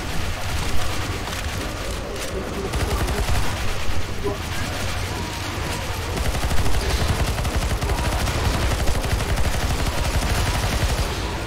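Rapid gunfire from Counter-Strike: Global Offensive in a zombie escape mod round, dense continuous bursts of shots layered over one another for the whole stretch, loud and unbroken, with faint voices mixed underneath.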